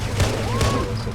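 Gunfire from the video game Halo: Reach, a loud, dense burst of weapon fire with booming impacts, lasting about a second.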